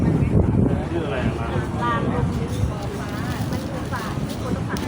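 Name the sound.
strong wind outdoors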